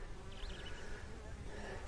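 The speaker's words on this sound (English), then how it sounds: "you can see a lot of bees arriving" Honey bees buzz steadily around the entrance of a homemade horizontal Langstroth beehive, a soft continuous drone of many insects arriving and leaving, with a few passing wingbeats close by.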